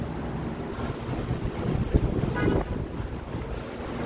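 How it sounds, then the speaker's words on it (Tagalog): Strong wind roars outdoors, a dense continuous rushing and buffeting across the whole stretch, loud and close to the microphone with no voices. "Yung hangin talagang lakas na yung mga basura."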